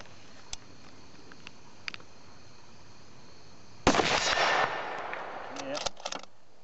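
A single sharp rifle shot from a Ruger Precision or Savage Ashbury bolt rifle cracks loudly outdoors, followed by a brief rumbling echo and a few small mechanical clicks, with faint clicks beforehand.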